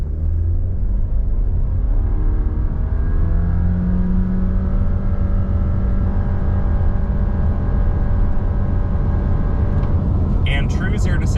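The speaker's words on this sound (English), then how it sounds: "Let's do a brake rev and see what it can do." A 2025 Subaru Impreza RS with a 2.4-liter boxer engine is brake-revved and launched, the loud engine note rising and climbing steadily in pitch as it accelerates hard, up close, with a brief clatter at the end.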